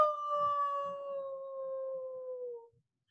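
A person imitates a wolf howl with one long, steady, slightly falling tone that holds for nearly three seconds before cutting off, close and clear with no other talk.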